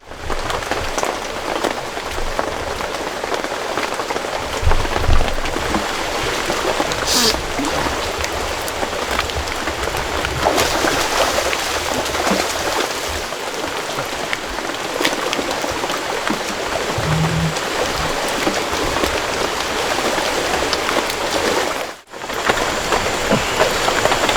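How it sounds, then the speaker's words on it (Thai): Steady heavy rain pours onto leaves and surfaces during a storm in a forest camp in the rainy season, a dense unbroken hiss that stays loud and even throughout, with no voices. "มื้อนี้ฝนก็ตก พายุมา"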